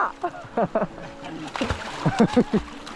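A dog jumps into a river and swims, throwing up a few short splashes amid lively voices that talk and call out over the water.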